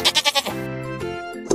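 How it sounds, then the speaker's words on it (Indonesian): A sheep gives one close, clear bleat: a quick run of wavering pulses that settles into a longer, steady quavering call, alone with no other sounds. "Hewan yang berawalan huruf D adalah domba."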